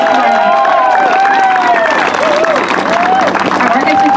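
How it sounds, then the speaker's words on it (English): Audience applause for a school orchestra, sustained clapping and crowd noise that stays loud and even, with a tonal hum or whistle running through it. "one more round of applause for our APM orchestra players."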